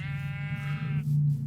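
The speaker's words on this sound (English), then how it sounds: "there's loads of sheep" A sheep bleats in a long, wavering nasal cry that breaks off and gives way to a lower, steadier call, close and clear with no talking over it.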